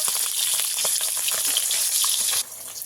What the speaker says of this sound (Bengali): আমি ভালো করে ভেজে নেবো উল্টে পাল্টে